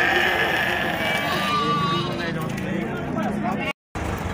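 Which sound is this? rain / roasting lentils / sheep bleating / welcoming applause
sheep bleating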